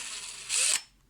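A handheld drill spins a Star M 5010AT adjustable circle cutter in a brief high whirring burst lasting under a second, close and fairly loud.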